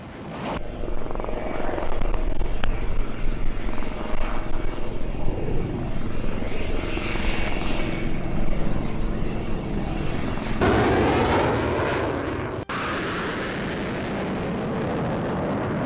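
An Indian Tejas fighter jet's engine roars steadily in a loud, sustained rumbling whoosh that holds for most of the stretch, then shifts in tone with a brief sharp break near the end, with no voices.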